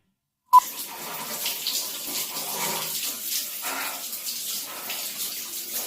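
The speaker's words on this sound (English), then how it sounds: "Before, I used to turn the shower on warm and then switch it to cold." A shower running after a click as it turns on, a steady hiss of spraying water that continues evenly to the end.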